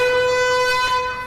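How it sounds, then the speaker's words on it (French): An alarm siren from an online mystery video sounds as a steady, piercing tonal wail with strong harmonics, loud and sustained, fading slightly at the end. "Est-ce que c'est la sirène qui marque la fin de toute l'énigme?"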